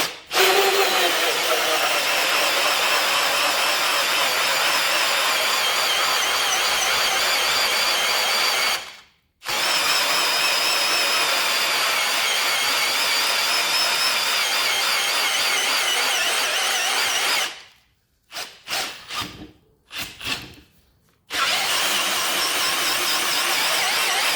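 An Ozito 18V brushless hammer drill running in first gear gives a loud, steady, high-pitched whir that holds for long stretches. It cuts out briefly once, then stops and restarts in several short bursts before running again.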